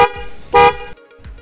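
A loud, brassy snail horn fitted inside a Honda Beat motorcycle blares in short honks over a steady engine hum, close by, with a brief full blast in the middle.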